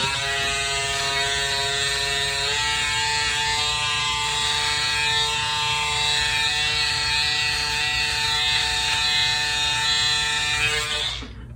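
An electric hair trimmer runs close and steady, trimming hair up from the sideburn area with a continuous high, even buzz that holds for about eleven seconds before cutting off at the end.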